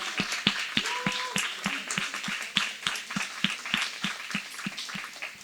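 Audience applause for Golden School at a school comic-art event: a steady run of many sharp hand claps of moderate loudness, sustained throughout without voices.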